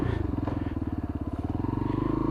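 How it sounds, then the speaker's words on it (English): A Lexmoto Tempest Euro 5 motorcycle with a stainless exhaust can idles close by with a deep, rhythmic, even throb that stays steady throughout. "But the purr from that engine does sound good"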